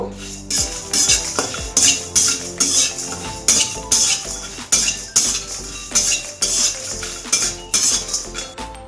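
Whole spices, including radhuni, dry roasting in a kadai as a spatula stirs them, giving rhythmic clinks and scrapes against the pan over a steady tonal background.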